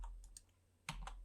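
Keyboard shortcut keys are pressed while modelling in Blender, a few quiet clicks in a short cluster followed by a firmer double tap.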